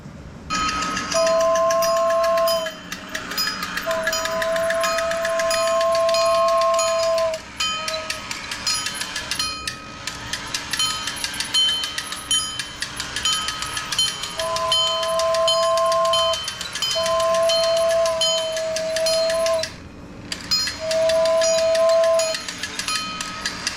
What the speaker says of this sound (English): We're putting it on the track.